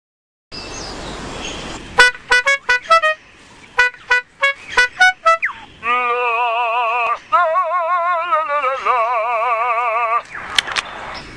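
A lyrebird mimics a car alarm, cycling through rapid chirping bursts, then long warbling siren-like wails, loud and close with brief pauses between phrases.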